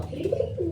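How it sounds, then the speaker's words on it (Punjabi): A red-headed pigeon coos softly in a short, low, rounded burst of a few rising and falling notes, close by, with no other voices. "ਇੱਕ ਆ ਲਾਲ ਸਿਰ ਵਾਲਾ ਕਬੂਤਰ ਬੋਲਦਾ ਪਿਆ"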